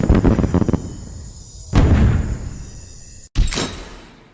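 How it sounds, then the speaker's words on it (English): A SAM turret fires its missiles in a game: three loud, sharp blasts in quick succession, each followed by a long decaying roar, with a brief silent cut before the last launch. "it kind of looks like the SAM turret's shooting all of its missiles"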